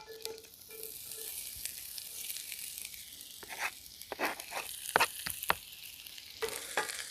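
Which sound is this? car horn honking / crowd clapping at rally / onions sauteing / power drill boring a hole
onions sauteing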